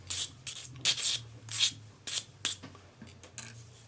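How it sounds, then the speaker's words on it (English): Sanding stick with 400 grit paper smoothing the edges of a handmade earring, giving soft, close scratchy rubbing strokes in short irregular bursts with brief pauses between them. "Then take your sanding stick, 400 grit paper, and just smooth off the edges."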